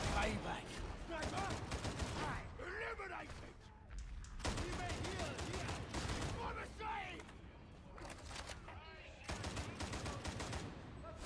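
Gunfire in the co-op shooter Warhammer 40K Darktide comes in dense, rapid bursts with short breaks, loud and close, while a player keeps talking over it.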